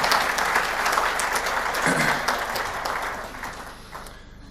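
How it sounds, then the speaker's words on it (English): Audience applause at a hospital family violence session, a steady dense round of clapping from a seated crowd that holds for several seconds and then slowly thins and fades out. "So I'd like to give each other a round of applause for being here and doing the work you're doing."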